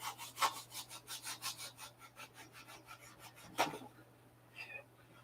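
A wooden model cowl being smoothed down by hand toward a thin wall: quiet, rhythmic rasping strokes about twice a second, close by, with a couple of sharper scrapes and a fainter tail at the end.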